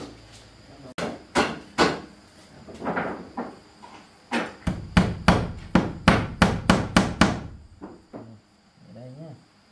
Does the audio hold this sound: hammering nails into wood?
yes